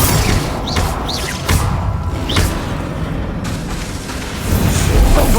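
Bombarda spell explosions from Hogwarts Legacy burst out as repeated booming blasts, loud and close, layered over dense, continuous combat noise.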